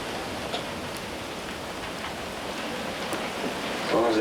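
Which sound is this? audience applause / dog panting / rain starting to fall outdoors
rain starting to fall outdoors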